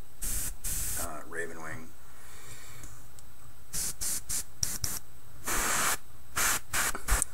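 Spray painting a miniature with black paint, several short bursts of aerosol hiss separated by pauses, with a few spoken words in between.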